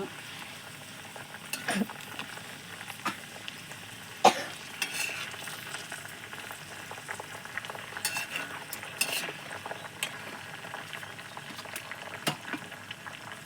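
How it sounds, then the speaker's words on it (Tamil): Curry leaves crackle and bubble as they fry in homemade hair oil, a constant low sizzle with scattered sharp pops and occasional clinks of a spoon, nearby and without speech. "கருவேப்பிலையை உருவி போட்டுக்குங்க."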